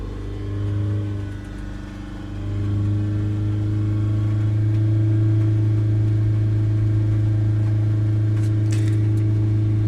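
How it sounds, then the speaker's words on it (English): Toyota RAV4 2.2 D4D diesel engine with a blocked particulate filter, rising to a held rev near 3000 RPM after a brief dip, a steady close hum with a strong low tone. "Let's rev it up to sort of 3000 RPM."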